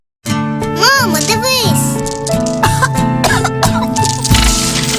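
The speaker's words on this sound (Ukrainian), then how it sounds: "коли у моєї донечки виникає вологий кашель" A child coughs several times in quick, wet bursts, mixed with a kid's voice and background music, fairly close and loud.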